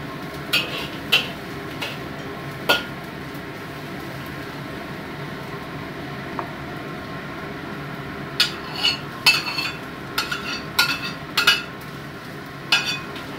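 A utensil scrapes and clatters against a wok while pickled mustard greens stir-fry with ginger and garlic over low heat, sharp metallic clinks in irregular bursts over a steady faint background hiss.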